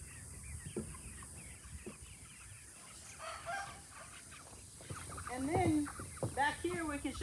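A small flock of hens clucks and calls on grass pasture during a heat wave, with a few closer, louder squawks near the end and quieter background noise earlier.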